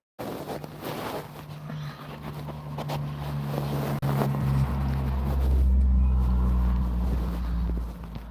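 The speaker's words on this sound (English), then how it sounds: "It's pretty windy down this part of the water's edge." Wind buffets the microphone at the water's edge on a sunny day in Western Australia, a continuous rumbling roar that swells louder in the second half, with a steady low drone beneath.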